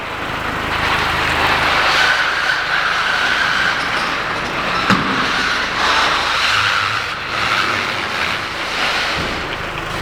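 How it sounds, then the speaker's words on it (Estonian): A long Mercedes Viano van maneuvers slowly into a tight corner indoors, producing a continuous engine and tyre rumble with mild rises and dips and one brief sharp knock midway. "Pika bussiga on ikkagi siia nurka natuke manööverdamist"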